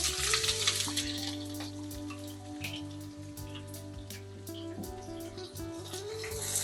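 Chopped onion and curry leaves fry in hot oil for a Kerala-style chickpea curry, a steady close sizzle and crackle with occasional stirring clinks, no talking.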